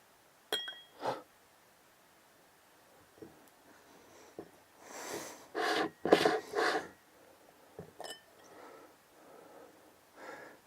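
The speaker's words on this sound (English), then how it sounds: "like a drop into a glass of water" A Sony Tough memory card drops into a glass of water: a sharp clink at the start, then splashing and sloshing bursts in the middle, with a few small taps and glassy knocks scattered around quiet gaps.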